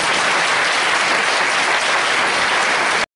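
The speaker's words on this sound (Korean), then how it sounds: "찬양으로 수고해 주신 인천지역 기도선교회를 위해서 큰 박수를 부탁드립니다" A church audience at an Incheon police Christian mission praise festival applauds the Incheon regional prayer mission praise team, a dense, steady wash of many hands clapping close by that cuts off abruptly near the end.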